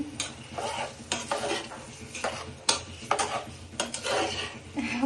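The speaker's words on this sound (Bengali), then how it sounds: "আমি পোলাওয়ের চালটা একটু ভেজে নিচ্ছি" Pulao rice being stir-fried in a pan with carrot and mustard, a steady scraping stir with soft sizzling and occasional metallic clinks of the spoon against the pan, close and fairly loud, with no talking.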